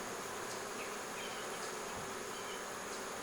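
Honey bees buzzing around an opened hive during a beekeeper's frame inspection, a dense, steady, close swarm drone lasting throughout, with no talking.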